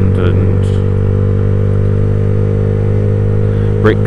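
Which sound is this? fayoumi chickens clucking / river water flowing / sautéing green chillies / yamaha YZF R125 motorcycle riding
yamaha YZF R125 motorcycle riding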